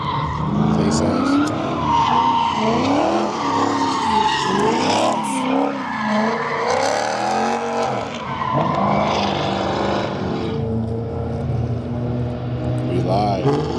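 Car tires skid and squeal at a car meet, a loud continuous screech with revving engine and shifting pitch running the whole time, while people talk and shout nearby.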